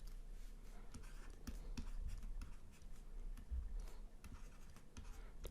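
Pen scratching across paper in short strokes and ticks, close and fairly quiet, with no voice over it.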